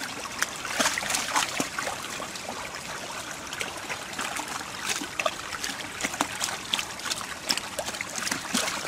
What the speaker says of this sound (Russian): Она чистая, проточная вода здесь